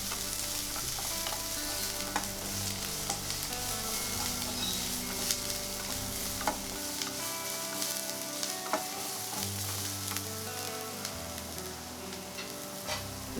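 Garlic, ginger and green chilli sauté in a pan for a chicken manchow soup, a steady dense sizzle with occasional scraping stirs and light clinks running continuously throughout.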